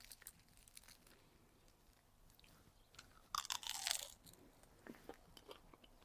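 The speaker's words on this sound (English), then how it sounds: "I've just toasted it, and listen to how crunchy it is." Someone bites into toasted spiced fruit loaf spread with butter, giving sharp, close crunches. A louder cluster of crunching in the middle is followed by quieter chewing crackles.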